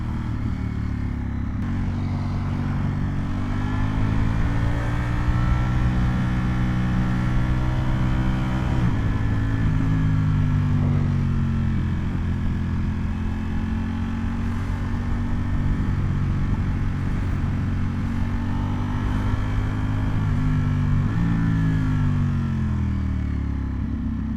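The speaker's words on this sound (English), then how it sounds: "God, I love how this bike sounds sometimes" A Ducati Panigale V4S sport motorcycle engine droning steadily while riding, its pitch rising and falling with throttle and gear changes, loud and close throughout.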